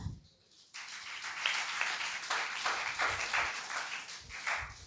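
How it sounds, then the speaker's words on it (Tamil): A church congregation at a Sunday service claps together, starting after a brief quiet moment and carrying on as an uneven, sustained round of hand claps at moderate volume. "நீங்களும் நானும் கைத்தட்டுங்க பார்க்கலாம்."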